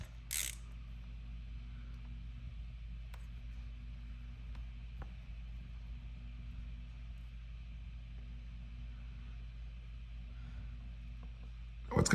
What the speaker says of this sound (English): So go ahead and remove these 2 oil drain plugs.